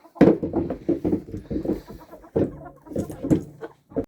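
Several hens and roosters in a coop cluck and squawk close by in short, uneven bursts, with brief quiet gaps between the calls.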